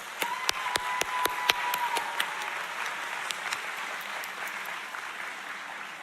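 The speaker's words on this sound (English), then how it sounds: "let us give another round of applause for Superintendent Steve Watson" An audience at a summer 2024 graduation ceremony applauds steadily, with a few sharp nearby claps standing out at the start before the crowd settles into an even wash that holds throughout.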